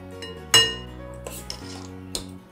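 Metal cutlery clinks against a dish as white pulao is served onto a plate: one loud, ringing clang, then a few lighter taps, close by and alone.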